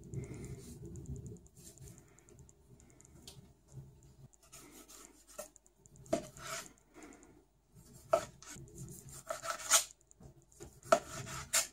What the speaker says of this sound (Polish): Pomidory również kroimy w kostkę.